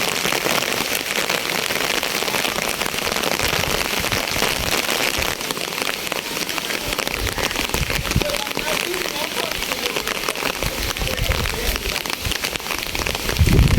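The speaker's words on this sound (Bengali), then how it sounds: "এই দেখেন বৃষ্টি কিন্তু অনেক জোরেই পড়তেছে" Heavy rain pours down steadily, a dense crackling hiss on surfaces, with a few louder thumps near the end.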